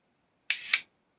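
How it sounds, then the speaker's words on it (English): A Fuji SW 90mm f8.0 large-format lens shutter is cocked and fired, giving two crisp mechanical clicks about a quarter second apart, close and clean against silence. "So to do the shutter, you cock it using this mechanism and then it's ready to be released."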